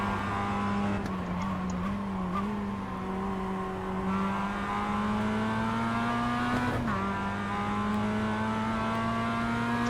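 Race car engine in the iRacing sim holding a steady loud drone with clear harmonic lines that dip and climb as the throttle opens earlier, with a brief shift-like break near the middle and a faint tire squeal.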